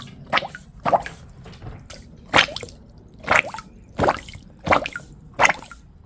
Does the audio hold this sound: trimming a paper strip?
no